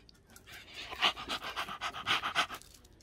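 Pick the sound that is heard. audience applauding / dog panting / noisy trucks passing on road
dog panting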